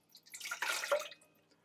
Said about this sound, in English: I'm going to use my stand mixer, and I'm going to put my water in